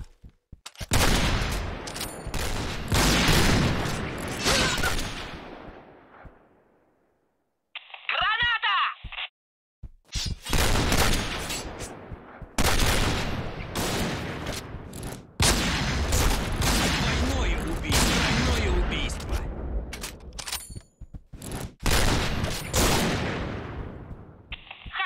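Gunfire in the PointBlank shooter video game: bursts of sharp, loud shots and volleys come in clusters with short quiet gaps, plus a brief electronic tone in the middle.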